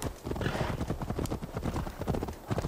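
Horse hooves clip-clopping at a steady trot as a mount arrives in Assassin's Creed Valhalla, the Siege of Paris expansion, with a brief whinny in the mix; the hoofbeats are close and continuous.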